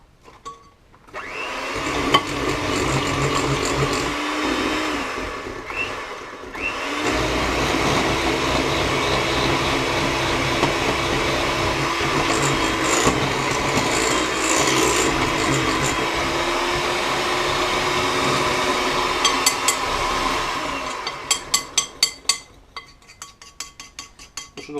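A small Kenwood stand mixer beats egg yolks into cream with a loud, continuous motor whir that briefly cuts out, restarts and runs steadily, then winds down into a few sharp clinks.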